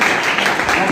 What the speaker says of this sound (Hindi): एक बार जरा जोरदार ताली वाली आप बजा दीजिए हमारे लिए